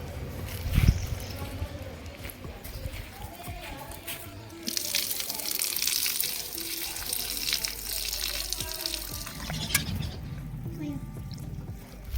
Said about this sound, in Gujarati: આપણે બધી દાળ છે એને વોશ કરી નાખીશું